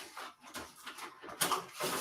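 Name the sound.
sheets of copier paper being handled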